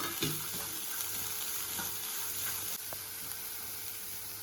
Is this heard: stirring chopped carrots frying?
yes